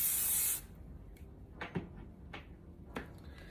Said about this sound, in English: So I'm gonna go over with the spray